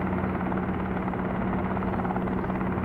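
A helicopter in a flight simulator game gives a continuous, loud, steady engine whine with a rhythmic rotor thump, with no voices over it.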